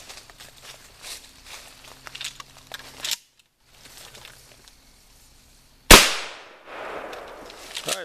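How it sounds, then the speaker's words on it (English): A 12 gauge shotgun fires a homemade experimental less-lethal round outdoors, one sharp, loud blast that decays quickly, preceded by quiet handling clicks and rustling. "let's go ahead and shoot a couple and just see how they do."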